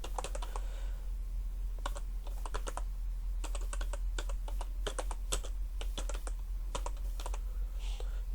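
Someone types on a computer keyboard, entering a web search, in short quiet bursts of rapid clicking keystrokes separated by brief pauses over a low steady hum.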